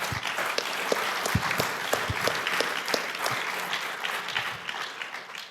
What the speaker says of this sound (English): So if you could just join me in a last round of applause for that.